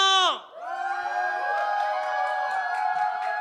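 A church congregation at a New Year revival service lets out a shout and cheer, a sustained mass of voices swelling after a sharp opening cry, with a few higher whoops rising over the crowd.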